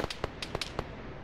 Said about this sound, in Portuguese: Eles lá, que estão atirando.